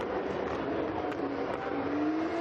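A GP2 race car engine screams steadily through a qualifying lap at Bahrain, a sustained high-pitched whine with slight pitch shifts, loud and continuous with no talk over it.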